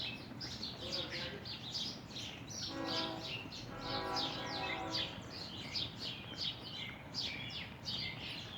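Small birds chirp and tweet repeatedly outdoors in bursts of short high calls, with a steady low background rumble throughout and a brief mechanical rattle partway through.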